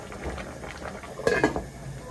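A metal lid goes onto a pot of Portuguese fish stew with potatoes, making a short double clink against a quiet simmering background.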